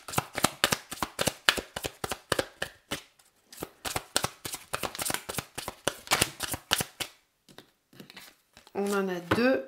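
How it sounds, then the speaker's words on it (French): Oracle mantra cards being shuffled by hand give rapid, close, crisp riffling flutters in quick bursts with brief pauses, ending as a voice begins to speak. "on va juste tirer une ou deux cartes là de mantra pour cette pleine lune"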